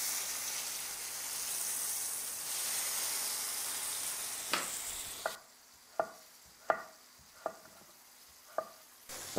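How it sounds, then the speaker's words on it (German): Calf liver frying Berlin-style in a pan, a steady sizzle and hiss for several seconds, then quieter with a series of sharp clinks or taps at regular intervals, close by with no talking. "Und wenn die Leber von beiden Seiten richtig schön angebraten ist"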